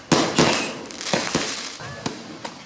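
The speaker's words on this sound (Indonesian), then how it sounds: "Puncak perayaan Tahun Baru Imlek diakhiri dengan pesta kembang api di depan pelataran Klenteng." Fireworks going off in front of a Chinese temple courtyard at a Chinese New Year celebration in Yogyakarta, several sharp loud bangs and crackles spaced irregularly over a lingering roar of the crowd.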